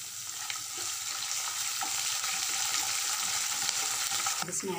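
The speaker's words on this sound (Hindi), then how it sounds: "दल अच्छे से फ्राई हो चुकी है।" Dal frying in a pan makes a continuous, even sizzle with a light crackle throughout, moderately close and steady, ending with a brief clatter; no one speaks.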